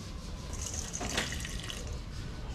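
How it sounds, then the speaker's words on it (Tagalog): Water pours and splashes into a container to dissolve homemade fish bait for tilapia, bangus and carp, a soft, steady trickle with a brief brighter gush in the middle. "lalagyan natin siya ng tubig para matunaw"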